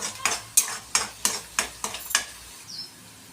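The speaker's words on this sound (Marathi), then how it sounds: "परतवून घ्यायचं आहे या वाटणाला." Masala paste being sautéed in a pan on medium heat for a paneer masala gravy, with about eight distinct stirring scrapes in a steady rhythm over a soft sizzle, close and fairly loud, no voices.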